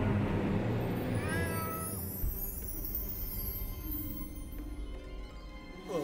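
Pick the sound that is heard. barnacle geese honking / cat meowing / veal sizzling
cat meowing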